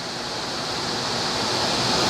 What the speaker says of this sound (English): we're trying to pump enough moisture back into the air, so it's just water under high pressure